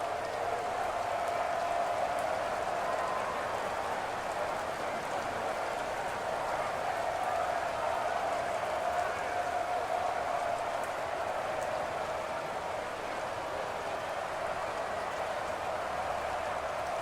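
Steady, even rain hisses continuously in a Madden football video game, a soft wash of falling drops with no breaks, faint and uniform throughout with no voices over it.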